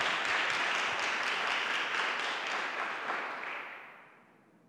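A church congregation applauds in a dense, even wash of clapping that fills the room for several seconds and then gradually fades away, with no one speaking over it.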